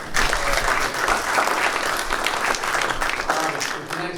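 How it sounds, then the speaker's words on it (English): A room of attendees at a fire science talk on chemical safety and emergency responders gives a sustained round of applause, steady and fairly loud throughout, with some voices mixed in. "Another round of applause, eh?"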